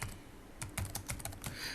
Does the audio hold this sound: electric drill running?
no